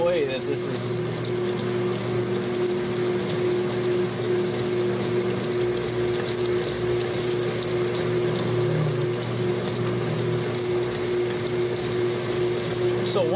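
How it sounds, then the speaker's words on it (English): A GE commercial top-load washer sprays rinse water onto its spinning agitator, giving a continuous hiss and splash over a steady mechanical hum, with a voice talking over it. "this spray of water is hitting the agitator, and it was the agitator was flinging it into the clothes"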